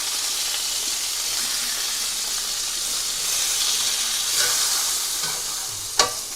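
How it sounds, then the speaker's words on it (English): Burgers sizzle steadily in a hot frying pan, a loud continuous crackling hiss with a sharp clink near the end and no talking. "Let this sizzle for a little while longer on the other side."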